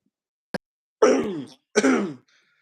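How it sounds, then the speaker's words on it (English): A sharp click followed by two rough, throaty bursts of coughing or throat clearing, close and fairly loud, with no talking, during a live stream. "Had to cough there for a second."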